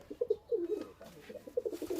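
High-flying Bangladeshi pigeons in a loft coo in soft, repeated rolling bursts, close and clear, with no talking.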